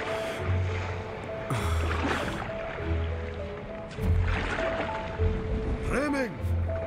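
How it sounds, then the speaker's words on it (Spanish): High rough sea with waves surging and splashing around a small boat in a storm, repeated rushing swells under talking voices and tonal background music. "¿Con esta mar tan alta?"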